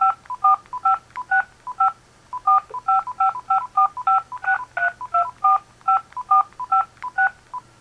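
Telephone keypad DTMF tones sound as an account number is entered, about two dozen crisp, evenly paced beeps in quick bursts with brief pauses between groups, clear and close over a faint hum.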